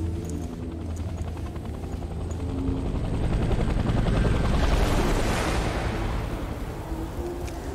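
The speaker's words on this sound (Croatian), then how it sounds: "Ne čujemo od helikoptera." A helicopter in the video game Death Stranding, a loud continuous rotor thump and engine whine that swells toward the middle, with faint gunfire-like bursts mixed in.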